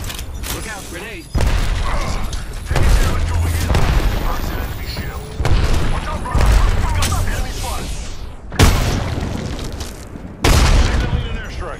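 Apex Legends combat plays out loud and close: sharp bursts of gunfire and heavy booms, including a grenade blast, break out in a run of distinct volleys over about twelve seconds.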